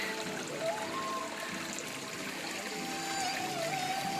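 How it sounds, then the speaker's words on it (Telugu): A mountain stream rushes steadily over rocks near Munchingiputtu, Paderu, a constant watery hiss and babble with no voices. "సెలయేరు పారుతుంది ఫ్రెష్ వాటర్"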